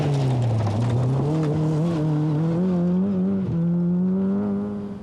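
A Vauxhall Nova rally car engine screams at maximum revs, its pitch rising and wavering as it holds near the limit, loud and close throughout.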